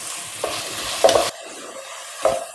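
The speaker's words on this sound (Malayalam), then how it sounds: "നീളത്തിൽ അരിഞ്ഞു വെച്ച ഉള്ളി ഇതിലേക്ക് ഇട്ട് കൊടുക്കാം. നമുക്കിത് നന്നായിട്ട് വഴറ്റിയെടുക്കാം." Long-sliced onions hiss and sizzle in a pan while being stirred for a Malabar chicken dum biryani, with a few quick scraping strokes over a brief burst of frying.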